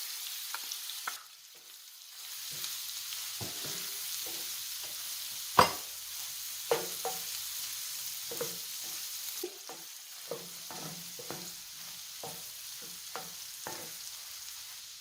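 Butter and garlic sizzling quietly in a pan while a utensil stirs and scrapes, with intermittent clicks and taps over a steady low frying hiss, no voices.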